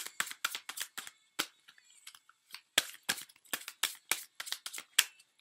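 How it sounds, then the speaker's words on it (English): Deck of playing cards being shuffled by hand in several quick bursts of riffling flutter, separated by short pauses, close and crisp with no talking. "I put it back and I shuffle my card."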